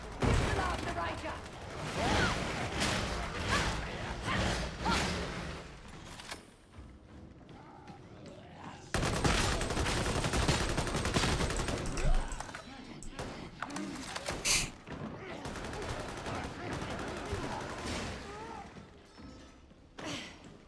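A scout shotgun fires in the video game Darktide during a Zealot speed-farming run. Loud, repeated blasts crash through a dense, continuous wash of combat noise that barely lets up across the whole stretch.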